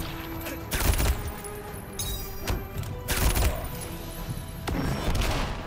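Gunfire in a video game: repeated loud, punchy shots in several bursts with booming low thumps and ringing tails, spaced irregularly across the stretch, up close with no talk.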